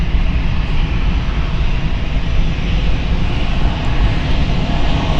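A Condor airliner from Seattle on approach into Frankfurt Airport in hot weather sends out a loud, steady jet engine roar that holds constant throughout.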